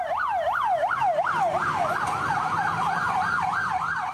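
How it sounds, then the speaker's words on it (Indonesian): A wailing ambulance siren sweeps up and down in a steady cycle, loud and close, from a convoy of four ambulances carrying the dead of a fire in Batu to a burial ground, over faint traffic rumble. "empat ambulan menuju tempat pemakaman."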